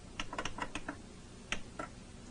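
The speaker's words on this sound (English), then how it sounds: "You can also call up a specific program by typing its number and pressing Enter." Buttons pressed on the keypad of a Kurzweil K2600 synthesizer: a quick run of about eight light, close plastic clicks followed by a pause and two more presses, quiet and alone.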